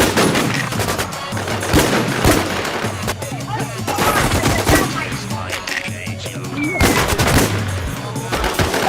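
Gunfire in the video game WarZ rings out as loud, repeated bursts of automatic shots and single cracks, close and sharp, spread across the whole stretch with brief gaps between volleys.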